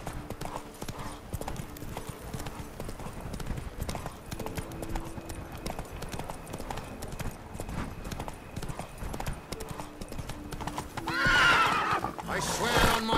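Roach, a horse in The Witcher 3 video game, gallops with steady rapid clip-clop hoofbeats, ending with a neigh near the close over game background sound.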